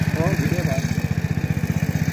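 A farm machine engine runs in village fields during the farming season in Gilgit-Baltistan near the Siachen glacier, chugging in a steady, rapid rhythm that stays close and loud throughout, with voices briefly heard over it early on.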